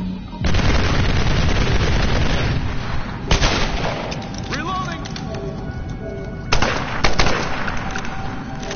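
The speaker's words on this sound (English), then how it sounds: "I think there's something wrong with the minigun." A minigun in the Tomb Raider multiplayer game fires in long, loud continuous bursts with explosive booms, while players talk over the gunfire.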